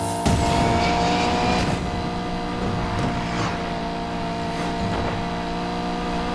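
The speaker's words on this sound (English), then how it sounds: "Better hurry, engines are revving." Race car engines rev and drone at high pitch in Need for Speed Payback, a loud sustained whine with rising and falling pitch and faint tire noise, no talking.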